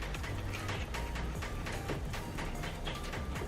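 A bolt is tightened onto the steering wheel hub of a Nissan 370Z with a ratchet, giving quick, quiet, repeated clicking strokes at close range throughout.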